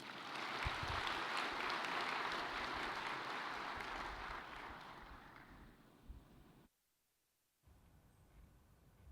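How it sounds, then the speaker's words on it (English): Applause from a conference audience at a presidential panel: a broad, steady wash of clapping that slowly fades, breaks off into near silence, then returns faintly at the end. "A round of applause, please."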